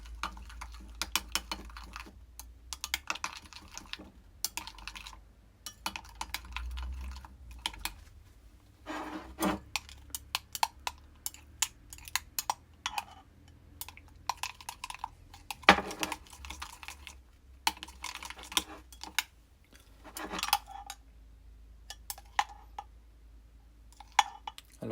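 Liquid plastic for soft crawfish fishing lures is stirred in a container, giving scattered light clinks and scraping taps, close and uneven, with quiet pauses between bursts.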